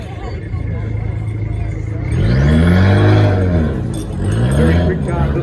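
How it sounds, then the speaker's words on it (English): A small Austin competition car at a car show revs its engine in a few sharp, loud bursts that rise and fall, close by over a murmuring crowd. "The smallest car makes the biggest noise."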